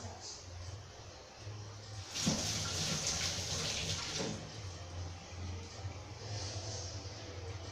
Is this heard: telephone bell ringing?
no